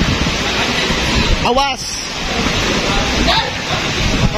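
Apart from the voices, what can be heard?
strong wind and rain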